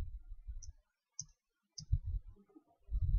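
Keys tapped on a computer keyboard during accounting data entry: three sharp, isolated clicks spaced about half a second apart, quiet and close, separated by soft low rumbling background noise.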